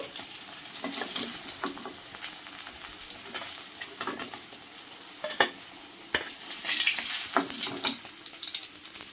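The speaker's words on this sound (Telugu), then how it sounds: "బాగా ఇలా క్రిస్పీగా వచ్చేంత వరకు వేపుకోవాలండి" Fish pieces deep frying until crispy in hot oil, Nellore style, a steady bright sizzle with repeated stirring and turning clicks, close and alone with no talk.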